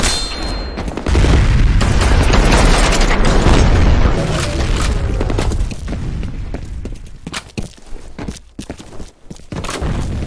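A grenade blast in the shooter game F.E.A.R. erupts as a loud, sustained boom with rumbling debris, then fades into scattered combat noise and gunfire.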